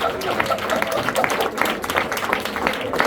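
A church congregation claps its hands in praise to God, a lively run of many overlapping hand claps in quick rhythm, with a voice speaking over the clapping.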